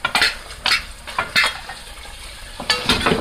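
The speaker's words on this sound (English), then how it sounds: "I'm going to go ahead and throw in my broccolis." Broccoli tossed into a beef stir fry in a hot pan with soy and starch sauce, giving repeated bursts of sizzling and utensil scraping against the pan, loud and close with no talk.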